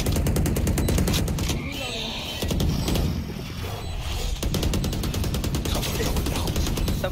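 Sustained automatic gunfire in a video game rattles in rapid bursts, loud and close, with short pauses between strings of shots and talk mixed underneath.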